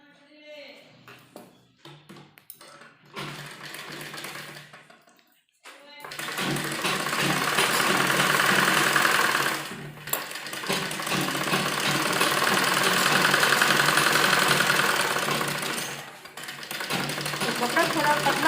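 A sewing machine stitches two pieces of thin palazzo fabric and lining together in long steady runs with brief pauses, someone talking over it.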